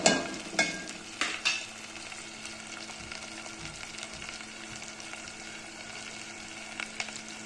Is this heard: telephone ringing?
no